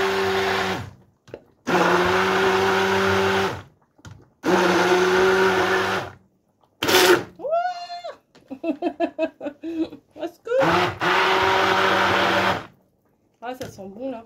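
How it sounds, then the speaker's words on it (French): A kitchen blender purées butternut squash, potato and red onion in several loud bursts of a few seconds each, with short pauses between them, and someone talks during the gaps. "je mixe. Butternut, patate, il n'y en a pas beaucoup, et oignon rouge."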